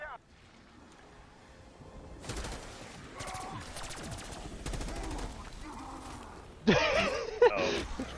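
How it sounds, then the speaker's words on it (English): Gunfire in Call of Duty Black Ops 6 Zombies, several bursts of rapid shots over a few seconds ending in a louder sharp volley, with a player talking between them. "Oh wait, I'm shooting. I can shoot."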